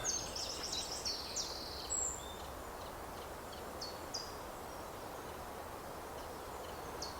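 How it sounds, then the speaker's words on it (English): Faint, scattered bird chirps and short calls drift over a steady outdoor hiss, thin and distant, with no voices. "listening to the birds, looking at the trees"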